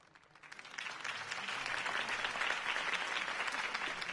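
A crowd applauding at a political campaign rally in the game Telltale Batman, clapping swelling from faint to a dense, sustained roar of many hands, moderately distant.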